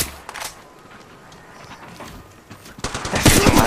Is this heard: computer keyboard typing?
no